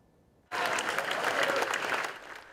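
A crowd at a high school signing day bursts into loud applause and cheering after a near-silent moment, sustained clapping filling the room for about two seconds before starting to fade.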